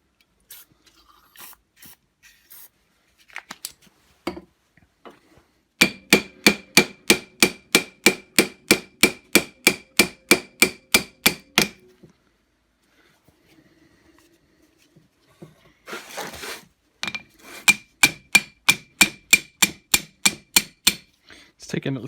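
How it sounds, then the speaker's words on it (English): A hammer strikes a seized Pratt Burnerd 3-jaw lathe chuck in two long bursts of rapid, evenly spaced metallic blows, close and sharp, separated by quiet pauses with scattered taps and scraping. "Taking little chips off my hammer."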